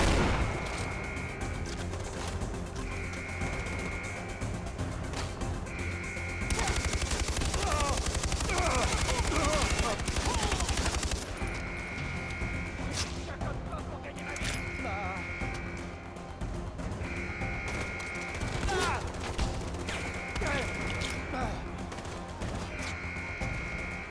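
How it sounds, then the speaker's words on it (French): Video game artillery and gunfire: a steady low rumble carries repeated sharp bursts and a dense barrage of blasts near the middle, with periodic tonal beeps and a voice speaking over the action. "Unité d'artillerie active."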